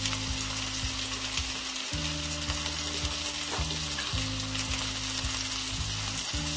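Spice masala of ginger paste, garlic paste, cumin and coriander powder sizzles steadily in hot oil while being stirred in a pan for a tilapia fish curry, with a constant bright hiss and repeated scraping strokes throughout.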